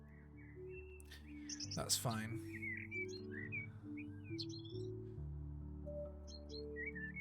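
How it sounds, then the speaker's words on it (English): Birdsong from the House Flipper video game chirps and whistles in bright, repeated tweets over a low game hum. A person speaks briefly partway through. "the birds are loud regardless"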